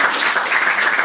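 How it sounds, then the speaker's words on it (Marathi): A stand-up comedy crowd claps together at a live show, a dense, steady burst of applause filling the short moment with no voices over it. "एकदा टाळ्या वाजवायच्या"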